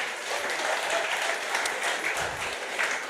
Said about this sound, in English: Give Mr. Lambert a round of applause for me.